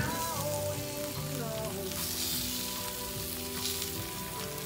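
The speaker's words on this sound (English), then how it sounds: "I'm gonna put my bun right in there" A buffalo burger bun toasts on a hot griddle at a camp house cookout, and the griddle gives a continuous close, loud sizzle and crackle throughout, with no talking over it.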